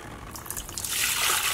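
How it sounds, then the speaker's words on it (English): Hot water poured into a 5-gallon bucket for an iron indigo vat, a splashing pour that swells from a thin trickle into a loud, steady gush over about a second and a half. "I'm gonna take my hot water and pour it into my 5-gallon bucket"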